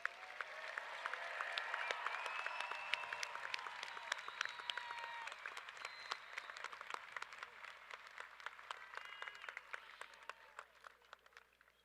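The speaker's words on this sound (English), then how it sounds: "Can I have one final round of applause for the class of 2024?" Closing round of applause from a graduation ceremony crowd honoring the class of 2024: steady, fairly faint massed clapping that thins and fades toward the end, with a few tonal sounds drifting through.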